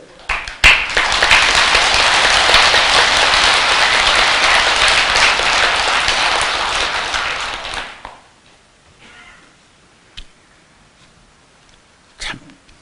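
A temple congregation at a winter-solstice Buddhist dharma talk breaks into loud, sustained applause for about seven seconds, then fades into near silence with a couple of faint knocks.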